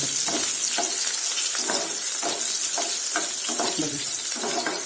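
Green chillies fry in hot oil in a pan with a loud, continuous sizzle, broken by rhythmic scraping strokes of stirring roughly twice a second, close up and with no talking.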